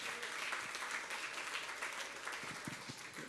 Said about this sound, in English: I think we can give him a bit of a round of applause on that one